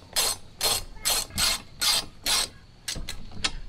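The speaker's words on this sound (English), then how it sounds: "now we're gonna use the 14 millimeter bolts that they provided us and make it tight" A ratchet wrench tightens 14 mm bolts on a Superstrut steel-channel roof rack, with six steady, evenly spaced rasping bursts followed by a few quicker, shorter clicks, close up and clear with no talking.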